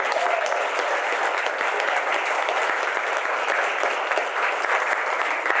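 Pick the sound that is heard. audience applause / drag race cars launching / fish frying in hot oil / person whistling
audience applause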